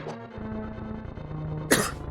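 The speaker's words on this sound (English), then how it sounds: "I don't know why I'm coughing so much" A single sharp cough bursts out near the end, close and fairly loud, preceded by quiet room tone with a low steady hum.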